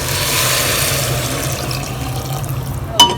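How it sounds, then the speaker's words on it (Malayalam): Boiled water poured into a pot of rice and masala for Nombu Kanji, a steady watery rush running the whole time with a brief splash near the end, with no voices. "ഇനി ഞാൻ ഇതിലേക്കൊരു തിളപ്പിച്ച വെള്ളമാണ് ഒഴിച്ചു കൊടുക്കുന്നത്."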